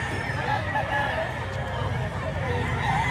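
Rooster and hens in a Filipino gamefowl setting, with steady low clucking and faint crowing-like calls under a continuous busy farmyard background.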